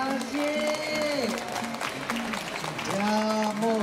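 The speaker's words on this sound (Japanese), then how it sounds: "皆さんの拍手が選手たちにとってはね、心が強くなるんですよね" An audience at a Muay Thai event at a Thai festival in Fukuoka claps throughout. The applause is partly covered by loud announcer and music tones, and it swells again near the end.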